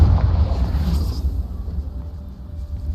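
A Confringo fire spell bursts in Hogwarts Legacy, a short muffled boom at the start that fades into a low rumbling tail, alone with no talk.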